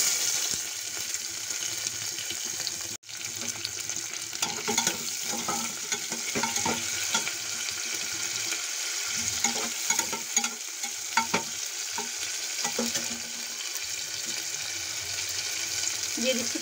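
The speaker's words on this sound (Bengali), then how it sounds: "আদাটা অল্প ভেজে নিয়ে আমি এর মধ্যে দিয়ে দিচ্ছি পেঁয়াজ কুচি।" Chopped ginger and onion sizzle steadily in hot oil in a pan for a mixed cauliflower and potato dish, with occasional stirring scrapes and a sharp clack near the start, close and continuous.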